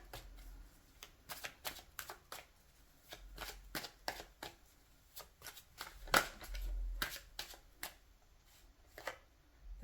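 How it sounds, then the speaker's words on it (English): A deck of tarot cards being shuffled up close, quiet crisp riffles and flicks coming in irregular bursts with short pauses between them. "Even though I shuffled the cards, I still like to give them a quick shuffle"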